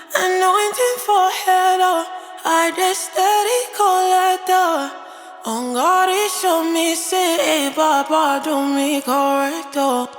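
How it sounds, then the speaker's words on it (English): A sung vocal drenched in a big reverb effect, the phrases ringing out into a wide, washy tail; the voice carries continuously with only brief pauses between lines. "And then we have the big reverb"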